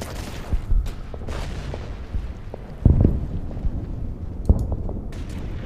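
Muffled gunfire and low booms from the strategy video game Order of Battle, set on Saipan with US Marines, several dull thumps spaced irregularly over a rumbling background.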